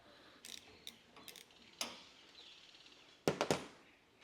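A wrench works a 14 mm bolt loose on a light mount of a Jeep Gladiator: faint scattered metallic clicks, then a quick cluster of sharper ratcheting clicks near the end.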